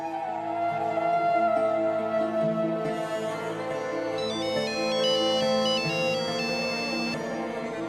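A melodic phone ringtone plays steadily for several seconds, with chiming electronic notes over a sustained backing tone, no voices.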